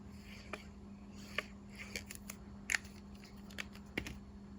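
Quick, quiet paper-trimmer cuts through a one-inch strip of Beauty of the Earth designer paper for a Thanksgiving pumpkin card, a series of short crisp snicks spaced irregularly over a low steady hum.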